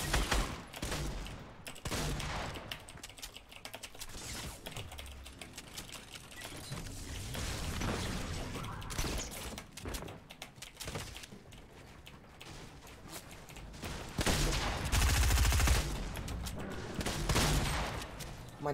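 Dense Fortnite gunfire with rapid volleys and bursts of shots, loud and sustained over a busy game mix, with a heavy thump near the end.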